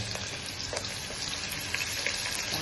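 Onion frying in oil crackles and sizzles at a steady, fairly loud level, a continuous hiss with no talking.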